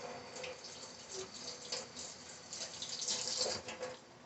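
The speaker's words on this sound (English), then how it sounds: "I'm going to rinse it off." Tap water runs steadily over sausage being rinsed at a kitchen sink during spaghetti preparation, a continuous close-up splashing hiss that swells a little louder toward the end.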